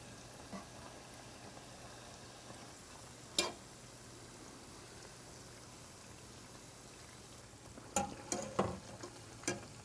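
Chickpea-wheat pakoras fry quietly in oil with a faint, steady bubbling hiss, broken by a few brief clicks and taps of turning them, the noise staying soft and distant.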